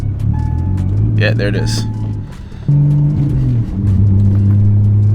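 A BMW car pulls away from rest, its engine a low steady rumble that rises in pitch as it accelerates, heard close inside the cabin while someone talks over it.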